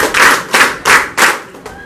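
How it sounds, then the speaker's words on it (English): A group of people claps in unison four to five times in a steady rhythm, each clap a broad, loud burst from a room full of people. "Let us give 5 claps for ourselves."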